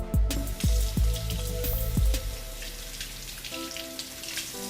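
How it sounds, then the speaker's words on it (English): Water running from a tap over hands at a kitchen sink while cooking ribs, a steady close splashing stream with a few sharp knocks and clatters early on, no talking. "Let me rinse my hands."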